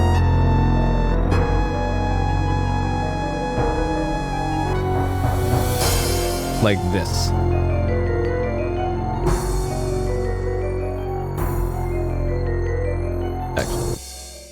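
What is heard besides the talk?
MT-32 game music played through an SC-55 synth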